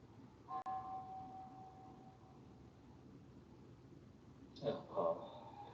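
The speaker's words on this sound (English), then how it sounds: "Did some of us get startled by the bell?" A meditation bell strikes once with a clear ringing tone that fades over about two seconds, and a second softer strike or clatter follows near the end over quiet room tone.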